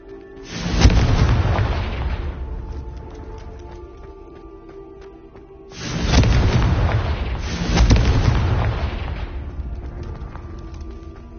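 Two heavy booming blasts of the Confringo fire spell go off in the Hogwarts Legacy video game, each loud and close with a long rumbling decay, the second followed by another swell, and no talking between them.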